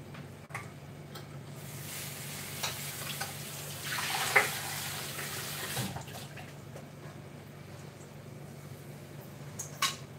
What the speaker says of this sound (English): Just going to wash me colander.